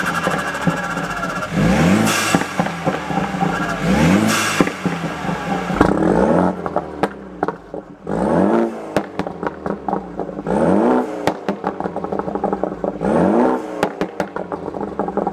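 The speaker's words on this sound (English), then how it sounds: "this little 328 N20 4-banger turbocharged engine" A BMW 328i's N20 turbocharged four-cylinder engine with full bolt-ons revs repeatedly, rising in pitch in several sharp bursts with a crackling exhaust between pulls, close and loud.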